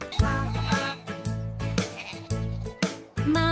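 Sheep bleating in a farm-animal sounds sequence: several wavering bleats in a row with short pauses between them, close and fairly loud, with no talk over them.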